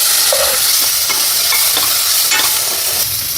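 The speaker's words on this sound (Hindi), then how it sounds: "ये देखो प्याज को अच्छे से भूनने के बाद अब डाल देंगे टमाटर।" Tomatoes tipped into sautéed onions for sambhar sizzle loudly and steadily in the pan, with a few distinct stirring scrapes punctuating the continuous frying hiss; no voices.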